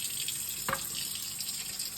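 Water runs steadily from a tap as a part of a Shark HydroVac cleaner is washed out, with one brief splash or knock partway through.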